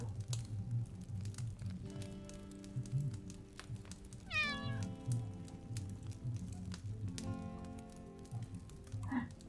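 A house cat meows in a long rising-then-falling cry near the middle, with a shorter meow near the end, over a low steady hum and scattered soft ticks.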